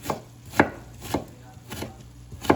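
A knife chops an onion finely on a board with about five sharp, evenly spaced thuds, close and clear over a quiet background.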